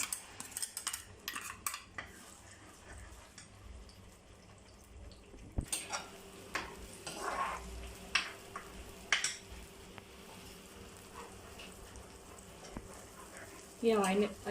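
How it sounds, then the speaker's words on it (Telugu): Onion paste fries in hot oil in a home kitchen. A steady close sizzle runs throughout, with stirring clinks and scrapes of a utensil against the pan and a brief burst of louder crackling near the end. "ఈ ఆనియన్ పేస్ట్ ఫ్రై అవ్వాలండి ఆయిల్లో."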